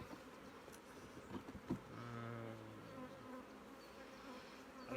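Honey bees buzz around hives during an acacia honey harvest at an apiary near Fontainebleau, a steady droning hum with a brief louder buzz passing close midway and a sustained tone afterward.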